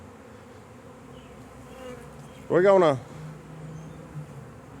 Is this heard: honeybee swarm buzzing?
yes